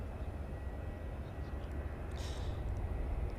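Dash 8 turboprop airliner arriving at Cairns Airport, a faint, steady distant engine drone under outdoor ambience with no voices.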